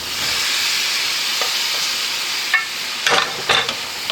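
Bombay potato mix being stirred into onion frying in a pan, a steady sizzle throughout with a few louder scraping strokes of the spoon near the end.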